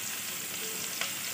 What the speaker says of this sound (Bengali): হালকা করে একটু ভেজে নেব